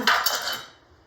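A knife cuts through a Greek pinwheel roll in a single short, close stroke, a bright scrape that fades within a second.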